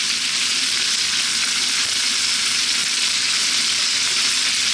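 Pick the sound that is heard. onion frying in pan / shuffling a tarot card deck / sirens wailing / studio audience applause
onion frying in pan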